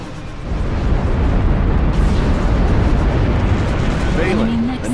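Bombers destroying an enemy nexus in the strategy game Ashes of the Singularity: a sustained, loud rumbling roar of explosions, with a voice speaking over the blasts near the end.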